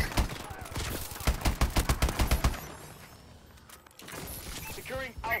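Rapid bursts of automatic gunfire in a clan wars shooter video game, dense and loud at first, then fading out, with voices talking over the later part.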